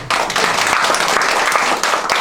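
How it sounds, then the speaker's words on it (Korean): Applause from an audience at a local community meeting with a city mayor, steady dense clapping filling the whole stretch without a break, fairly loud and close. "박수 한번 치고 시작하시고"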